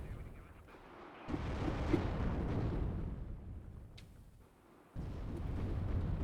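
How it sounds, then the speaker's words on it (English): Grenades exploding during a close-quarters battle in the WARNO strategy game, a rumbling run of bursts with a sharp onset near the middle, then a fresh loud blast near the end over continuous battle din. "We've got grenades flying"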